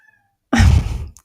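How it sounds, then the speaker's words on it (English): A house cat gives a single short meow in the background of an indoor room, a brief, fairly clear cry after a moment of near silence. "Do you hear my cat in the background?"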